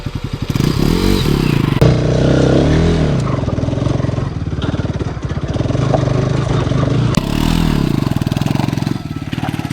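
A Bajaj Pulsar 150 motorcycle revs hard during a rescue on a steep hillside hiking trail. The engine drones loud and close throughout with rising and falling revs, clatter and thumps.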